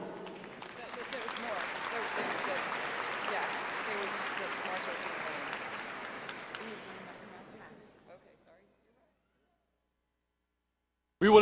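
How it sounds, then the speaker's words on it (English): Audience applause for a doctoral graduate at a spring commencement ceremony, a broad sustained clapping that gradually fades out around eight seconds, followed by silence and a sudden short noise at the very end. "Please join me in extending another round of applause for a doctoral graduate."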